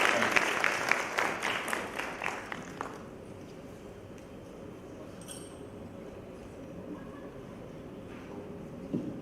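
Audience clapping after a public lecture, quiet scattered applause with sharp claps in the first few seconds that dies away into faint room noise.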